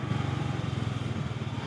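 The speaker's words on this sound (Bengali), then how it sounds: "আমি মেয়ের বাইকে করে যাচ্ছি" A motorcycle with a woman riding on her daughter's bike, its engine humming at a steady low drone close by, continuous throughout without a break and with no voices.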